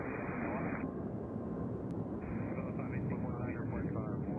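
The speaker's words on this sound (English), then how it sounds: "Did that plane just land?" Airplane landing at Nashville International Airport, a loud continuous roar of jet engines that holds steady with a brief dip partway through; people talk over it.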